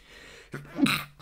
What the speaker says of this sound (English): I've never sneezed on camera before